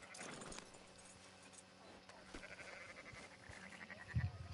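Sheep bleat in the Red Dead Redemption 2 game world, several faint calls against a ranch ambience with hoof clops and a low thump near the end.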